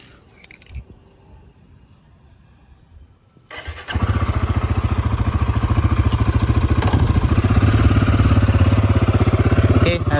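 A motorcycle engine cranks and fires after a few quiet seconds, then settles into a loud, steady, close idle with a rapid, even pulsing beat that keeps running to the end.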